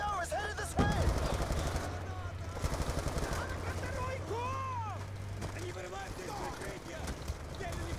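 Gunfire in the Black Ops 2 campaign, with sharp shots and bursts scattered through a dense mix of game effects, music and engine-like drone, fairly close.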